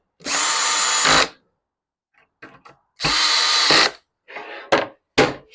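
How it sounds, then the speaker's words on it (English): A power drill drives screws through a board into a homemade lathe headstock in a garage: two loud, sustained whirring runs, each ending with the pitch dropping as the screw seats, separated by softer clicks and shorter bursts. "what I'll do is just screw a board here to get the headstock up off of the board a little bit"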